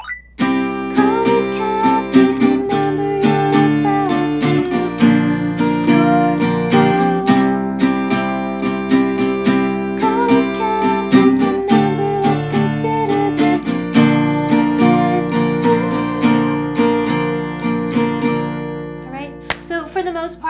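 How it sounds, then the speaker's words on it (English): An acoustic guitar is strummed in a steady rhythmic pattern, chords ringing out clearly with quick down and up strokes and changes between chords. "if you wanted to do the full strumming pattern, that would sound like this."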